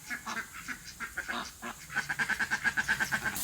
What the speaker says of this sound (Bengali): আমাদের বাড়ির হাঁসগুলো এত রোদ লেগে গেছে